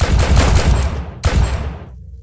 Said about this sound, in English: I like the punch on these pistols